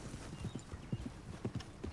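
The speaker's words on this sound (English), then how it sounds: "I know my horses, and this is a good one" Horse hooves clip-clopping in Red Dead Redemption 2, a steady rhythmic patter of muffled thuds at a walking pace, close and continuous, with no talk over it.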